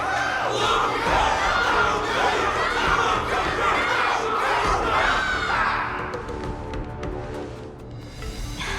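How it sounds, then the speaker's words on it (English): A crowd cheers and shouts in a battle arena event of the Honkai Star Rail video game, a dense roar of many voices that stays loud before thinning out toward the end, with no single speaker. "Can't you hear? Everyone's cheering for you, Luca!"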